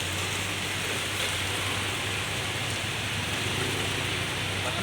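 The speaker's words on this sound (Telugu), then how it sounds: "Rain, full of rain falling." Heavy rain pours steadily in Mughalrajpuram, Vijayawada, a dense, unbroken hiss close around with no letup.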